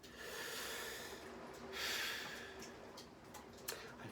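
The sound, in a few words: slow deliberate breath to calm down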